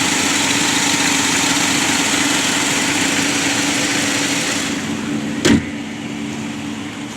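A car's 2.4-liter engine idles with a steady, even hum for several seconds, close and loud, softening near the end, where a single brief knock or clunk is heard.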